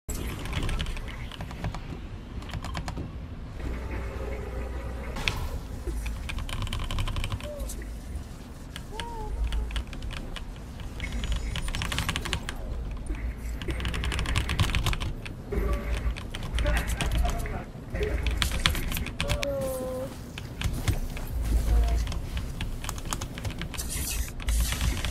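Fast, steady clacking of keys on a HYDONG GM213RGB budget mechanical keyboard with RGB lighting during a game, dense and close, with a low hum and occasional faint game sounds beneath.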